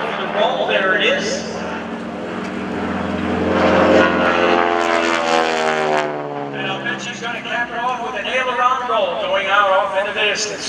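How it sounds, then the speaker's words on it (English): At the 2015 Greenwood Lake Airshow, a propeller airplane flying aerobatics drones loudly, its engine pitch rising and shifting as it passes and turns, with an announcer talking over it. "He's going to turn the airplane around."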